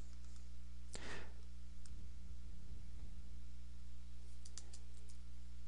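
A computer mouse gives a few faint, isolated clicks spread over several seconds against a steady low electrical hum.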